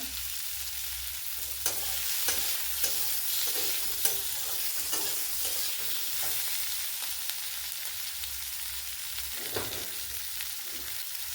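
Mango, potato, onion and capsicum fry with ginger and garlic paste for a village mango prawn jhol, under a steady, soft sizzle broken by repeated sharp clicks of a stirring spoon on the pan.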